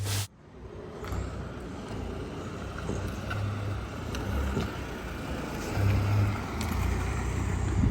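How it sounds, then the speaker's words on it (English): Volkswagen Up car driving away, its engine a low steady rumble that rises slightly as it pulls off, heard from outside at moderate distance with no talk. "I'll post a video of the car leaving now"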